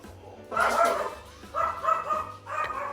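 A dog at home giving short, slightly muffled barks and yips in three bursts, fairly close, indoors with a low background hum.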